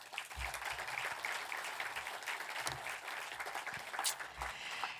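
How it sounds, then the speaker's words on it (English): A theater audience at an evening program applauds steadily for several seconds, a dense, even patter of many hands at moderate distance with no voices rising above it. "So please give these tremendous supporters and yourselves a round of applause."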